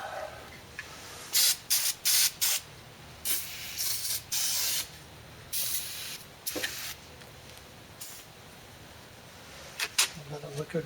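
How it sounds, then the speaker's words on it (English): Short hissing bursts of an aerosol can of Liquid Wrench penetrating oil sprayed on a Bally Miss America Supreme pinball machine, several quick sprays in irregular succession with brief gaps, close by. "I have to spray it a little bit too."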